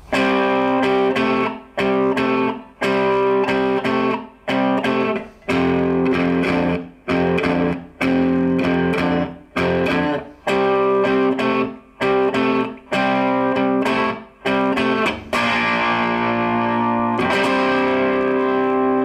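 Electric guitar plays a verse at a slowed tempo, with overdriven chords struck in short, choppy bursts and gaps between them, then a final held chord ringing out alone.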